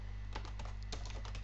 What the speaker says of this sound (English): I'm typing this quickly